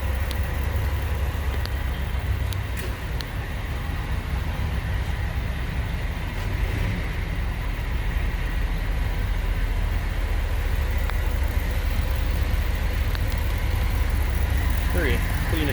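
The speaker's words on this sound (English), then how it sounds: "just look and listen at how smooth that engine runs" The engine of a 1959 Ford Thunderbird idles in a steady, even low rumble, close and continuous for the whole stretch without any revving.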